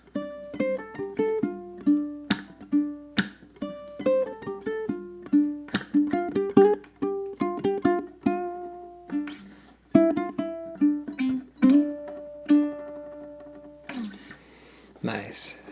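A ukulele plays a funk riff in four parts, with bright plucked notes and percussive muted chucks in a syncopated groove. The playing is close and clear, and it ends with a couple of strummed chords.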